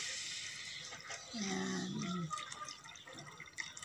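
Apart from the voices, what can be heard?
water being poured into a cooking pot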